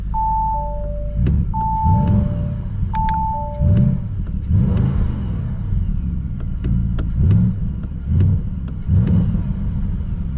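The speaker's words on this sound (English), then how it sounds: "it should be even more interesting if we turn on the car on drive mode dynamic" Audi RSQ8 performance with a 640 hp V8 running in dynamic drive mode, a deep steady idle rumble with several revs rising and falling, alongside a few repeated electronic chimes early on.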